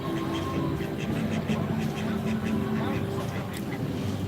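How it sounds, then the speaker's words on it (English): Ducks quack repeatedly at a park setting, a scattered series of calls mixed with steady background chatter and ambient noise, people talking nearby throughout. "Look at all these guys. They're all quacking."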